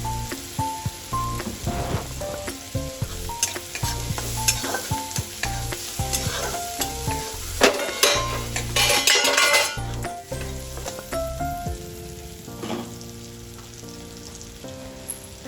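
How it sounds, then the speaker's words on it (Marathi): Finely chopped onion with garlic sautéing in a pan for mung bean usal, with a steady crackling sizzle and frequent sharp clinks and scrapes of a spatula stirring against the pan, busier in the first two-thirds, then quieter. "यामध्ये मी बारीक चिरलेला कांदा टाकून परत एकदा चांगला तांबूस लाल रंग येईल तोपर्यंत परतवून घेणार आहे."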